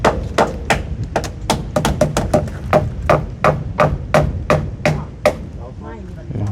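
Rapid hammering as timber is nailed into the wall of a wooden house under construction, loud, close and sharp. The blows come in quick irregular runs with brief pauses, over a dull background.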